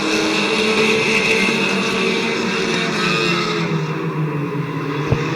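Compact race cars roar steadily into turns 3 and 4 at Midvale Speedway, a dense continuous engine drone from several cars running together at a distance, with a brief sharp knock near the end.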